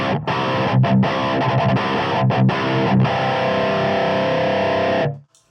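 Heavily distorted electric guitar through a Positive Grid BIAS pedal plays loud, sustained riffs with brief choppy stops, then cuts off to silence.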